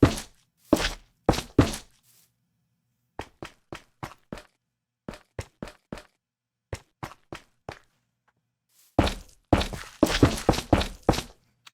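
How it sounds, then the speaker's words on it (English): Block sounds from Minecraft, the game, around a frog light: short dull thunks and taps in quick clusters, spaced by brief silences, with a denser rustling burst at the start and again near the end. "I love that little frog light"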